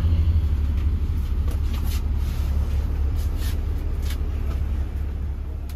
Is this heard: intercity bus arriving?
yes